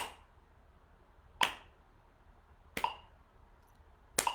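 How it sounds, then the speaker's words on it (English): Three sharp hand claps in a cello class, spaced about one and a half seconds apart and fairly close, with a quiet room between them. "We're clapping."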